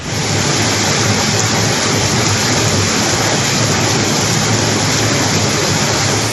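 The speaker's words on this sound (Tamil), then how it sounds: "நீலகிரி மாவட்டம் கூடலூரில் ஒரு மணி நேரத்திற்கு மேலாக கனமழை குட்டி தீட்டது" Heavy rain pours down in Gudalur in the Nilgiris district as a dense, steady, loud roar that never lets up, with no voices.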